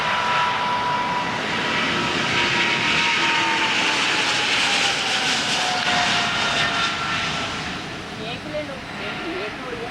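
A Boeing 777 jet airliner roaring steadily on takeoff, a broad sustained engine rumble with rising whine, slowly fading near the end.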